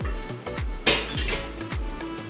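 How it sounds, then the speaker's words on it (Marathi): A pressure cooker set down on a gas stove, giving several metallic clanks and knocks with one louder bang partway through, close by and with no voices. "गॅसवर आपण कुकर ठेवू."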